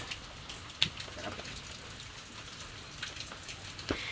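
Heavy rain falling, a faint steady wash of patter with a few sharper drips standing out.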